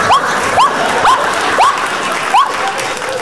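Studio audience applauding on an Armenian comedy talk show, continuous clapping under a repeated rising whistle-like chirp that sounds several times.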